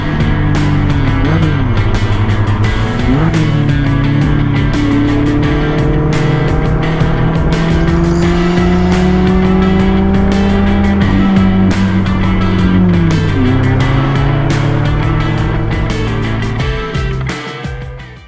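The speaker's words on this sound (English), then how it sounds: "we had to drive back down the mountain and out the way we came in" A Mazda Miata driving down a mountain road, its engine a loud, steady drone that rises and falls through gear changes for the whole stretch, close and unbroken until it tapers off at the end.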